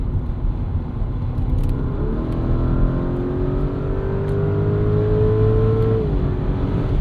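A 2024 Porsche Cayenne S V8 SUV on snow tires accelerates hard, its engine note climbing steadily in pitch as it pulls through a long gear before a brief dip at a shift, heard loud from inside the cabin.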